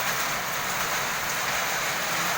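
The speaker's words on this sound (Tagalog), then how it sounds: "biglang bagsak ng ulan" Sudden heavy rain pours down in strong wind, a dense, even, steady hiss of falling water with no voices.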